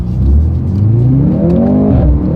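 A 2024 Mercedes-AMG C 43 exhaust roars loudly as the engine revs climb steadily under hard acceleration in manual shift mode, continuous and close.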